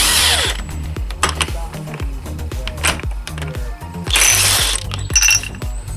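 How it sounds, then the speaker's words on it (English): A ratchet and hand tools click and whirr loudly and up close as the clutch nut is worked loose on a Yamaha GTS 1000 motorcycle, with repeated mechanical rattling bursts. "that way you'll be able to remove the nut"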